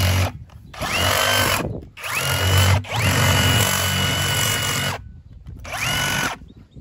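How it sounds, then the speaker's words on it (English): A power drill with a large bit bores holes through an old tire, whining loudly in several long bursts separated by brief pauses. "I got a drill, a large drill bit."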